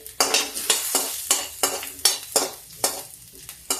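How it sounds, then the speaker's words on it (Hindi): Cumin and garlic crackle and sizzle in hot oil in a pan with repeated sharp bursts roughly every half second, like spices being stirred and tossed in hot fat. "गैस तेज है, जीरा तड़कने लगा है, डाल देंगे लहसुन।"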